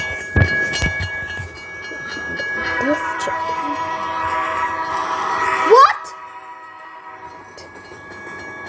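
A video game train rolls past with a loud, rising horn blast and rumbling clatter that cuts off abruptly, with a brief spoken exclamation and some clicks beforehand.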